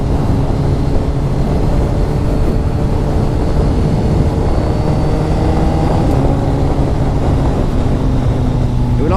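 A BMW K1300S motorcycle accelerates hard, shifting without the clutch. Its engine drones steadily and loudly, with rising harmonic tones and one abrupt drop in pitch as a gear change lands near the end.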